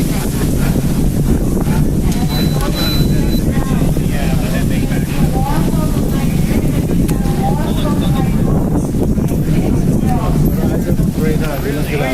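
Strong wind buffets the microphone without letup during an outdoor street protest in Toronto, a loud, steady rumbling roar covering the whole stretch, with voices faintly present beneath it.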